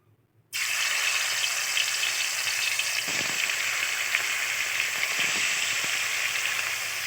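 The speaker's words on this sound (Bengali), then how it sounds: "চলো ততক্ষণ মাছটা ভেজে নিই" Fish coated with salt and turmeric hits hot oil in a kadai and sizzles loudly at once, the steady frying hiss holding for several seconds with a few faint clinks underneath.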